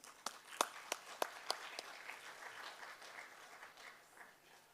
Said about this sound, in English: on vous accueille avec applaudissements